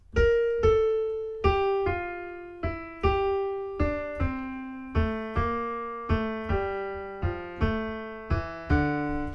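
A clear piano melody of struck notes, each sounding in quick pairs, with a steady rhythm and decaying tones, played alone.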